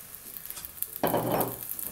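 Quiet faint hiss, then a sudden loud sizzle as onion hits hot olive oil in a pot, crackling and frying steadily up close.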